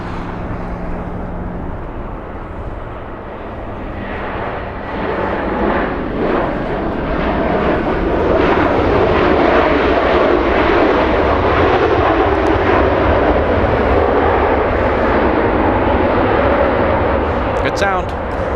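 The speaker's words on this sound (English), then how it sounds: "an A319 on our screen coming in from San Francisco, flight 2272, flying for 53 minutes, about to touch down on 24 right" Airbus A319 landing on runway 24 right at LAX, a loud, steady jet roar that swells as the aircraft comes in to touch down and holds its rumble for the whole stretch, with a voice talking over it.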